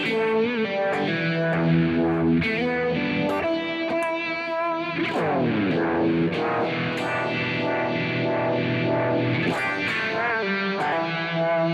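Distorted electric guitar drenched in effects, sustained chords and bends ringing out continuously with a swirling, processed tone.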